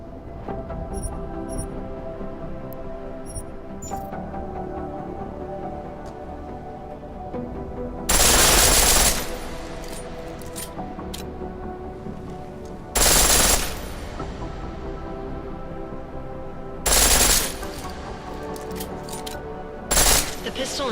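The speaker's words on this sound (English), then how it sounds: "The pistol in full auto will take down targets fast, but it'll burn through your ammo." Pistol fired on full auto in Deus Ex: Mankind Divided, heard as four loud, short bursts of rapid gunfire spaced a few seconds apart over a steady game music and ambience bed.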